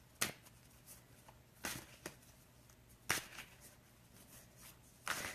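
Angel cards being handled and pulled from a deck, a few sharp shuffling riffles and snaps spaced a second or so apart, close and fairly quiet between bursts.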